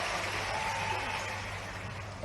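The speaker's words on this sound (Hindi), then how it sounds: "ताली पीछे से कम बज रही है।" At a political rally in Katni, an audience breaks into sustained, evenly spread applause, a thick wash of many hands clapping at moderate distance that tapers slightly as it goes, with a voice faintly underneath.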